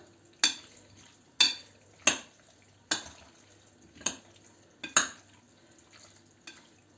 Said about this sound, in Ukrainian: Це все ми перемішуємо.